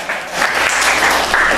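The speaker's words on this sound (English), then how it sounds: "Round of applause for that guy." Brief applause from a conference audience at a game music talk, a close, full wash of clapping that swells quickly and holds steady for a moment.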